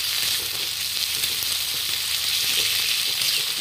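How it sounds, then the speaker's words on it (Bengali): Chopped onion frying in oil in a pan with green chillies, a steady close hiss of sizzling with faint occasional stirring, continuous and without speech. "এবার পেঁয়াজটা লাল করে ভাজতে হইব"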